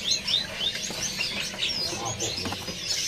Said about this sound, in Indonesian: Ini seri gunting abu-abu mata merah.